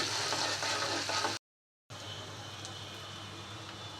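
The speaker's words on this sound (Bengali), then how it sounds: "পেঁয়াজটা ভেজে নিচ্ছি তরকারি রান্নার জন্য" Onions for a fish and spinach curry fry in a pan with a steady, close sizzle. A brief dropout of total silence interrupts it partway through, then the frying hiss continues evenly.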